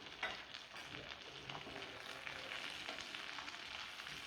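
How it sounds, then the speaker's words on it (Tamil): Curry leaves fry in oil in a pan on a stove over medium flame, giving a faint, continuous crackling sizzle with small pops throughout; no speech. "ஆக்சுவலாக இந்த கருவேப்பிலையை நம்ம வந்து இந்த எண்ணெயில் நல்லா வதக்கி எடுத்துக்கிடணும்."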